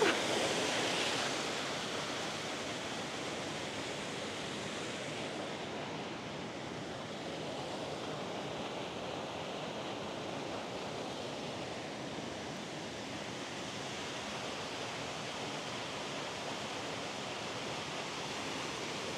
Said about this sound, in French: c'était la journée des cascades aujourd'hui